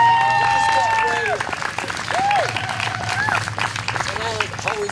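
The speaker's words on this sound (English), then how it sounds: "Have a round of applause for everybody that's spoken thus far." Applause from the audience at a youth poetry event, a steady wash of clapping heard under an emcee's voice speaking over it throughout.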